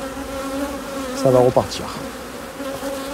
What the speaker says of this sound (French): c'est ça, les cadres, les ruches bourdonneuses